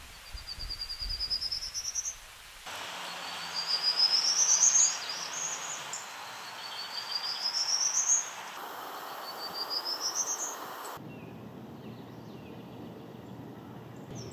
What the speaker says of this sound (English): The prairie warbler has a delightful song. A slow ascending scale of notes.